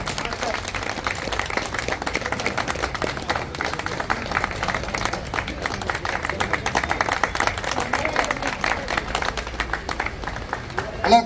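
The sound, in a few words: audience applause at gym competition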